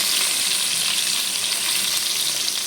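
Eggplant slices fry in a pan with a dense, loud, continuous sizzle that holds steady throughout and has no other sounds over it.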